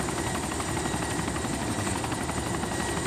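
A helicopter in the DayZ video game throbs loudly and steadily overhead, a dense continuous rotor roar that fills the whole span with no pause.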